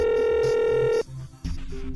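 A telephone rings with a steady electronic tone that stops abruptly after about a second, followed by a short gap and fainter tones and background sound, no speech heard.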